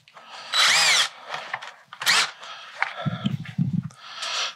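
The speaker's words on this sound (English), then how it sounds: "we're gonna bring back the drill" A power drill whirs in several short bursts, loud and close, while reshafting a Ping ISI golf club, with a rattling, thumping sound in between.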